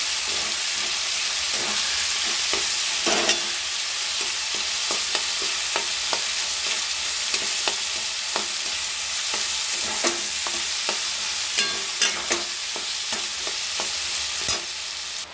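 Malabar spinach stems sizzle steadily in a hot pan while a utensil stirs and scrapes, giving sharp irregular clicks and knocks over the continuous frying hiss. No one speaks.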